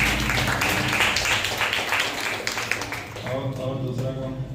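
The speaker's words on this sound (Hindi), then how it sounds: "श्याम दुलारी के लिए जोरदार तालियां हो जाए" Congregation applauding for a woman welcomed at a Sunday church service, dense continuous clapping that fills the hall, with voices mixed in beneath.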